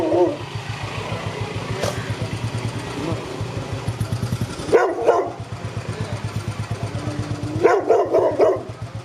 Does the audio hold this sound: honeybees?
no